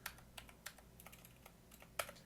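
Computer keyboard typing up close: a run of light, irregular key clicks with brief pauses and a sharper tap near the end, no talking.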